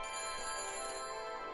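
A phone helmet in the Back To The Future game rings after dialing, a steady, bright, electronic ringing tone that holds for the whole moment.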